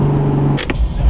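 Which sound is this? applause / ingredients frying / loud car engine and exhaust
loud car engine and exhaust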